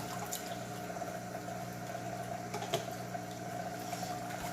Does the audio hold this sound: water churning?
yes